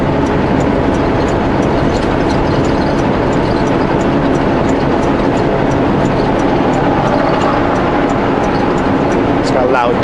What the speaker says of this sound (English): got loud tires on that pickup.